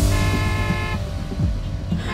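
Several car horns honk from vehicles waiting behind a stopped car in traffic, a long steady toot followed by shorter blasts, loud and close over a low engine rumble.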